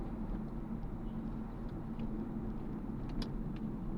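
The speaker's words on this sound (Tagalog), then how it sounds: "Grabe traffic lagi dyan sa Ortegas na" Heavy road traffic on the way from Cubao toward Cainta, Rizal: a steady low rumble of car engines idling and crawling nearby, continuous and even without horns or talk.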